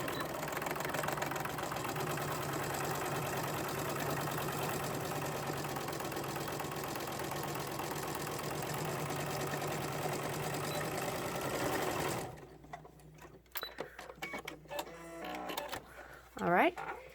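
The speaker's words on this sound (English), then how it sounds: "So I'm just going to sew this around here." A sewing machine runs around the edge of a fabric face mask in one long steady mechanical hum, then stops, leaving a few quiet clicks and a voice speaking near the end.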